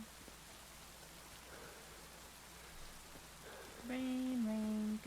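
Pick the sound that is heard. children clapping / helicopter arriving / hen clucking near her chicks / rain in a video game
rain in a video game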